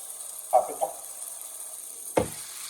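Vegetables sizzle in a pan with smoked paprika while cooking for venison in red wine, a faint, steady hiss broken by a few brief stirring scrapes.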